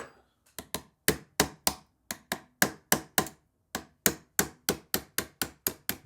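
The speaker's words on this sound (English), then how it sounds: "Maybe this one I got to stick that little screwdriver in and tap it." A small screwdriver tapped through a part of a Remington 7600 rifle, sharp close metallic knocks repeated about twenty times in a fairly even rhythm, each strike clear and isolated against silence.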